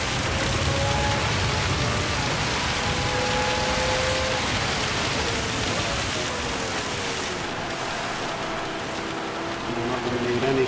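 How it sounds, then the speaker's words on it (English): Heavy rain in Gran Turismo 7 during a long race at Tsukuba, a dense steady hiss of downpour on the car, with engine tones sliding underneath and a voice briefly talking over it. "Got heavy rain now."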